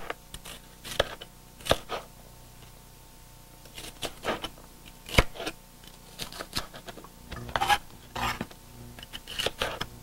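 A knife chops hard, solid peppers into pieces on a board in a home kitchen, giving a string of sharp, irregular cutting taps, some close together and some spaced, with quiet gaps between.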